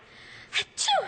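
A person gives a single sharp sneeze, preceded by a quick intake of breath, loud and close in an otherwise quiet room.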